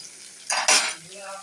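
Frying onions in a pan are stirred briefly, a short burst of close metallic scraping and sizzle against a quiet background, with no talk.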